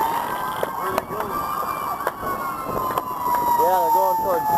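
An ambulance siren passes during a 2010 fireworks display in Lamar. Its steady wail slowly falls in pitch, with sharp fireworks pops cutting through and people talking nearby.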